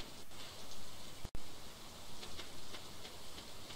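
Steady rain falling on a rainy day in Stardew Valley, a soft, even hiss of drops with faint patter and one brief dropout, quiet and alone with no talk.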